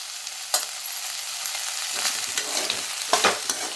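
Onion-tomato masala with chilli powder sautéing in a pan for a cauliflower gravy, a steady sizzle broken by several sharp spatula scrapes and stirs, close and moderately loud, with no talking.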